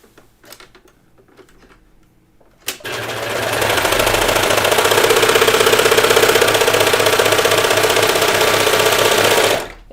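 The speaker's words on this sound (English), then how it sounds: "So I'm just going to overlock the top." A serger overlocks the tops of two chained pocket hems on a cardigan, running in a loud continuous whirring hum for about seven seconds after a few quiet handling sounds.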